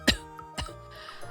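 A man coughing in an animated Hindi story, two sharp, close coughs about half a second apart followed by faint lingering noise.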